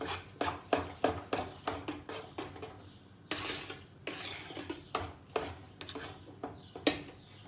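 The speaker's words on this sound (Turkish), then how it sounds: "Şimdi şöyle biraz çırpayım arkadaşlar ben bunu." A whisk scrapes and clatters rapidly against a large metal pot of thick apricot pudding mixture in quick bursts, with a short pause, then more brisk clinking strokes, close up.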